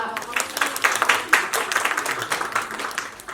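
An audience applauds at a Thai press conference and fan meeting marking an actor's ten years in entertainment. The clapping is loud and dense, with sharp claps throughout and voices mixed in.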